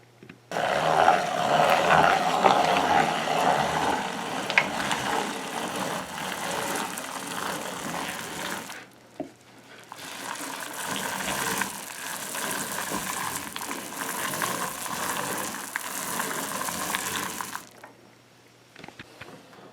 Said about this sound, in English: as we are grinding this dal here now, we're going to add these garlic one at a time and let it mix in the grinding